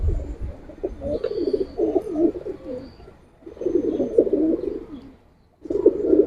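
Pigeons from a loft of Giribaz and coloured pigeons coo close by in three soft, throaty bouts separated by short pauses, with no talking.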